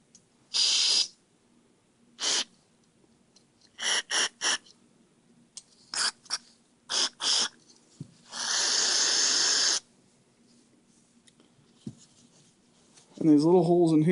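Carburetor cleaner is sprayed into the ports of a disassembled Yamaha Zuma scooter carburetor in short hissing bursts, several quick blasts and then one longer spray, close by, with a brief bit of talk at the end.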